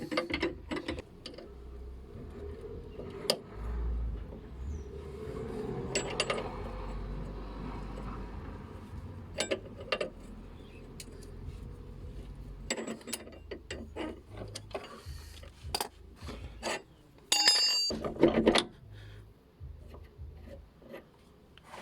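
A spanner works on a car's anti-roll bar link, with irregular metallic ratchet clicks, rubbing and scraping close up, broken by short pauses and a few sharper knocks.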